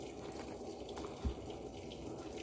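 Water rushes steadily into a Panasonic 14kg washing machine as it starts to fill, a constant hiss with one brief low thump midway.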